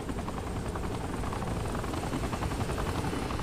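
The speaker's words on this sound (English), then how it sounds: "Is that an enemy chopper?" Enemy helicopter in the video game Saints Row The Third, a steady loud rotor thrum with rapid blade chop filling the whole stretch, no talk over it.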